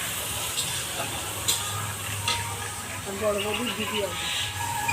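Food cooks on a clay stove, a steady sizzling and frying hiss with stirring sounds underneath, while people talk nearby over the cooking.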